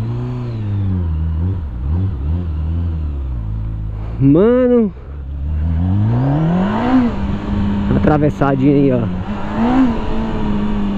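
A motorcycle with its original exhaust revs hard, with rising and falling engine pitch sweeps and sharp throttle blips. Someone talks briefly over the engine.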